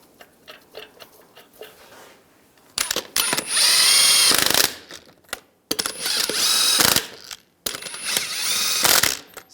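A ratchet wrench snugs down lug nuts on the rear wheel of a 2011-2018 Ram 1500. There are three loud bursts of fast ratcheting clicks separated by short pauses, preceded by quieter handling noises, with no talking.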